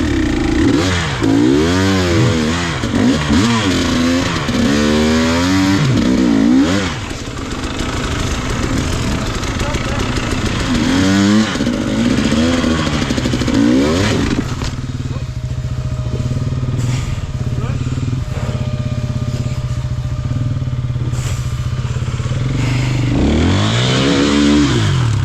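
Off-road motorcycle ridden through rough Welsh terrain, the engine revving and bogging as the rider works the clutch and throttle, rising and falling pitch sweeps throughout, loud and close with a steadier drone in the middle.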